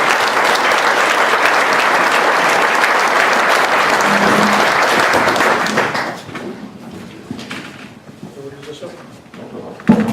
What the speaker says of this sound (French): Jo Guéguin, que je vous demande d'applaudir, président du Comité de Bretagne